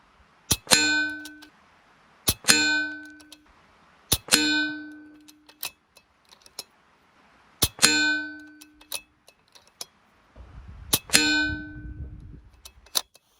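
Air rifle slugs striking a steel target at 50 yards, six distinct metallic clangs spaced a second or two apart, each ringing briefly before fading, with faint low rumble near the end.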